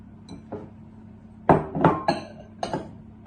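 Flour, cocoa powder and sugar tipped into the bowl of a freestanding mixer, a series of clinks and knocks of scoops and containers against the bowl, close and clear, several taps in irregular succession.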